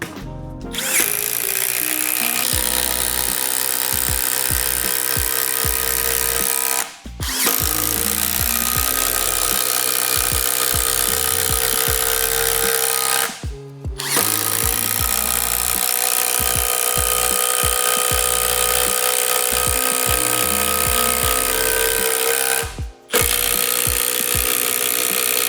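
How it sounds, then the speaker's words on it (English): A Harbor Freight impact driver drives lag fasteners in long, loud, continuous hammering bursts, three brief pauses breaking the run as the tool stops and restarts. "Now, let's see about driving the fasteners. They're a nice size lag."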